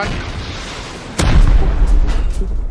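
A loud, close blast hits in the game Rust, a sudden boom followed by rumbling gunfire and a few sharp shots trailing off.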